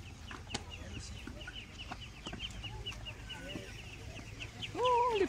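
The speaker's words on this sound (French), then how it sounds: "Oh, les poussins." Chicks and chickens crowded in cages at a market give off steady clucking and peeping, with a louder call rising near the end over a busy background.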